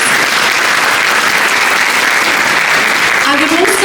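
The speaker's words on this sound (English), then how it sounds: "Please give her a round of applause." A dense, loud round of applause from an audience at an evening community gathering in Cranbourne, steady clapping filling the room for several seconds, with a voice rising faintly near the end.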